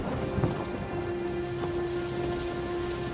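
Stormy downpour during the monsoon, a steady wash of rain with a soft rumble of distant thunder underneath, continuous and moderately loud with no voices.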